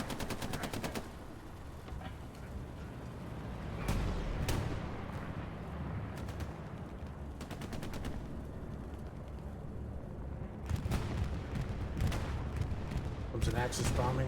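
An Axis bombing run in the World War II video game Hell Let Loose brings rolling explosions and rapid bursts of gunfire, loud and close, in several clustered volleys with rumbling pauses between.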